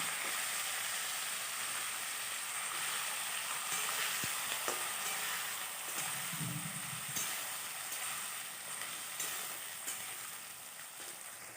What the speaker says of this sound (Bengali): এবার এর মধ্যে দুমো দুমো করে কেটে ধুয়ে রাখা হচ্ছে আলু আর বেগুন দিয়ে দিলাম এইটাকে সুন্দর করে ভাজবো